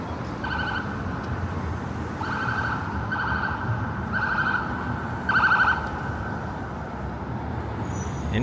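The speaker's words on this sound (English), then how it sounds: "Incoming really loud sirens" On a downtown Toronto street at night, an emergency vehicle's siren sounds in repeated short pulsing blasts at a moderate distance, riding over a steady bed of traffic rumble.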